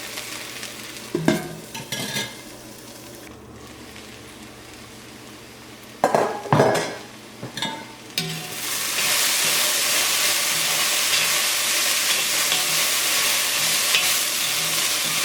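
Okra and coconut stir-fry sizzles in a pan. Several scraping stirs and clattering utensil knocks come first, then the frying settles into a louder, steady hiss that carries on to the end.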